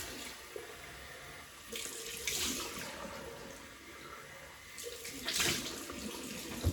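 Cold tap water runs steadily in a bathroom sink while shaving soap lather is rinsed off after a wet shave, a constant close splashing hiss that swells twice as hands move through the stream.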